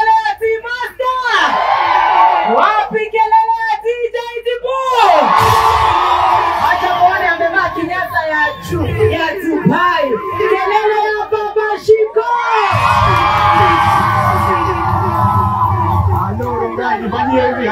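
A live outdoor concert crowd in Rongai cheers, whoops and shouts in loud sustained waves, answering a host on a microphone, with music and amplified voices mixed in throughout.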